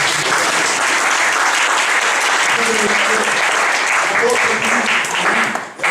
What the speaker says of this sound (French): Est-ce qu'on peut acclamer le Seigneur un peu?